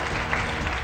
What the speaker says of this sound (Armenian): Համեցեք և ավելի բարձր ծափարենք մեր հարգարժան հերոսուհիներին